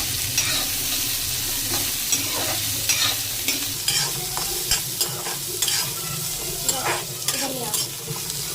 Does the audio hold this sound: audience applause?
no